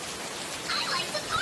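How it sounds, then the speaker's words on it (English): Hard rain sound effect, a dense steady hiss of falling rain with soft patter, filling the short clip evenly and faintly mixed with a voice. "it rained really hard"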